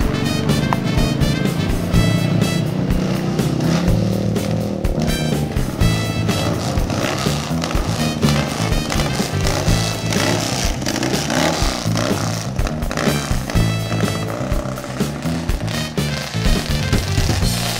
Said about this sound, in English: It's hard to describe the ear-piercing sound a two-stroke twin with chambers makes